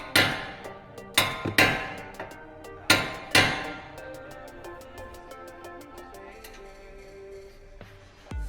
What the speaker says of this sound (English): I'm going to use a brass rod to shock the steering knuckle out.